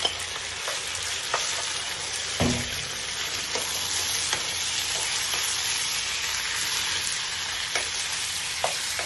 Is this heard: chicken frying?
yes